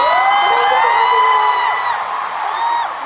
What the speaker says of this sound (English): Surreal to be back in front of such a large crowd like it is tonight.